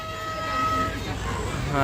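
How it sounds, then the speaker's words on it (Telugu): A park toy train's horn sounds with a sustained tone at the start, followed by rumbling motion and a second horn blast as the train moves off. "ట్రైన్ అయితే బయలుదేరటం రెడీ అయింది అనుకుంటా"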